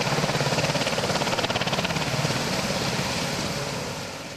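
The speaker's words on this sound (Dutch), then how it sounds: "Sea King nog eens te bewonderen in de nadagen van zijn actieve dienst" A Sea King helicopter flying at the Ursel Avia airshow, its rotor chop a fast rhythmic pulse over a broad engine roar, loud and close at first and then slowly fading as it moves away.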